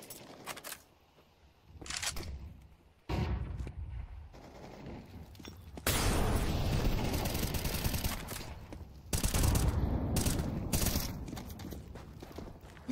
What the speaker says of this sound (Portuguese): Muitos tiros, poucas kills